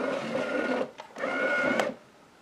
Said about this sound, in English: This big top button, you can push the left or right side to move the dome.